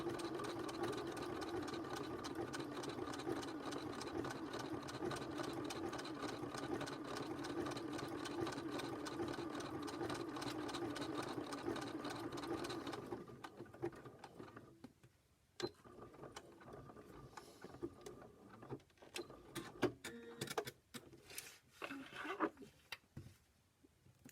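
Sewing machine stitching heart embellishments onto a zipper purse, running steadily and loud for about thirteen seconds, then stopping, followed by scattered handling clicks and small taps.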